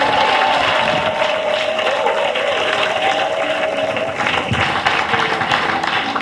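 A church congregation applauds together in a steady, dense wash of clapping that fills the space throughout, with a faint sustained tone and scattered voices running beneath it.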